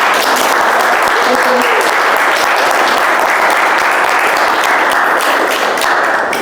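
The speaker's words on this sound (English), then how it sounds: "can we give a huge round of applause to Rachel?" A large audience at a startup talk event breaks into sustained, loud applause for a speaker, a thick, even roar of many hands clapping at once, close and continuous with no gaps.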